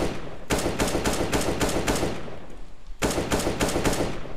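Rapid automatic gunfire in a first-person shooter during recoil control practice: two long, steady bursts of evenly spaced shots, loud and close, separated by a brief pause.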